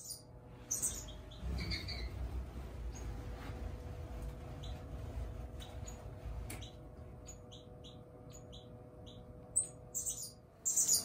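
Quail finches giving short, high chirps and tweets in scattered bursts, some close and some softer, over a faint steady background hum.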